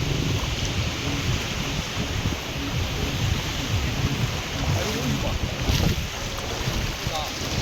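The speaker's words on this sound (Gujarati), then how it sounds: "હવે પાછળ મોજાની લહેર જુઓ, એકદમ ફૂલ ચાલી રહી છે, એકદમ મોજા ફૂલ આવે છે." A steady, rushing roar of surf washing in on the sea at Uncha Kotda, mixed with heavy wind buffeting the microphone, continuous and loud throughout.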